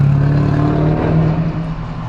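A car rolls past on a town street, a steady engine and tyre rumble that is loud at first and then slowly fades as it moves away, with no voices.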